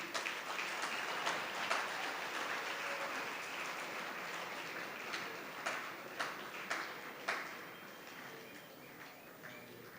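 Audience applause at a Vhembe TVET College event as leaders leave the hall, steady clapping with scattered louder individual claps, moderately distant and fading slightly toward the end.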